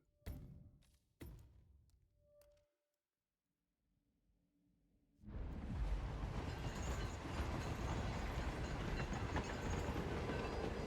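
Train rolling on rails in a Hitman game: a few sharp clanks and thumps, then near-silence, before a loud continuous rumble of wheels on track takes over for the second half.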